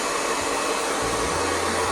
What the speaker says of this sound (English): I can turn up the heat on my blow dryer, and the heat will turn up on this thing.